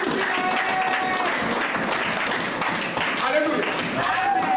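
A church congregation breaks into sustained applause and cheering to acclaim the king of kings, a dense, loud wash of clapping and crowd voices throughout.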